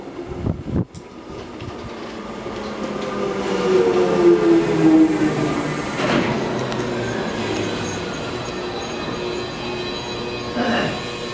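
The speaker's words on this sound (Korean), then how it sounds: "드디어 지하철이 도착하고" A subway train pulls into a station, a loud rumbling approach with rising wheel and motor tones that swell midway, then settle into a steady mechanical roar, with no voices heard.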